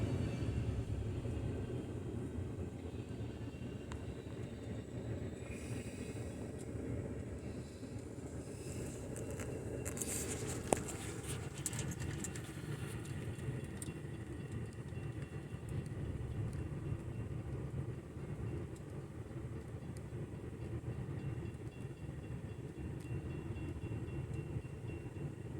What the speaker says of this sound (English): here comes the trains moving now